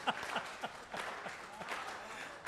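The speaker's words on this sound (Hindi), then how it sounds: "मैंने ताली बजाने को कहा नहीं" An audience at a poetry recital claps in a brisk, steady burst of hand claps, moderately close and continuous throughout.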